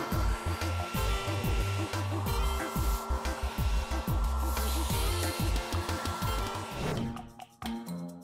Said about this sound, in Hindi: हेयर ड्रायर की थोड़ी गर्म हवा ठीक रहेगी।